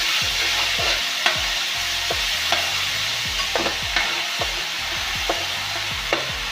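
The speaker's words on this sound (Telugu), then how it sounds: "పచ్చంత పోయిందాక కలుపుతాం బాగా" Ginger, garlic and coconut paste stirred in a hot pan for an Andhra-style fish curry, steady loud sizzling broken by repeated scraping strokes of a spoon at an irregular rhythm, close up with no talking.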